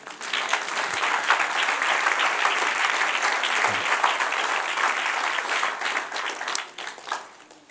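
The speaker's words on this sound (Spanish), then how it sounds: "Dale un aplauso al que reina." A church congregation applauds loudly and steadily for several seconds, with dense clapping that tapers off at the end.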